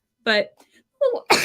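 A single sharp sneeze bursts out during a live business talk show, with a person speaking briefly just before it.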